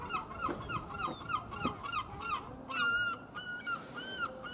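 Seagulls calling on a sunny day outdoors, a run of harsh, repeated squawks and honks, fairly near and loud, with no talk over them.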